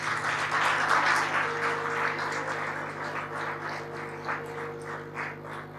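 A church congregation at an Easter service applauds steadily, dense clapping that swells at first and then slowly thins out, with a faint hum underneath.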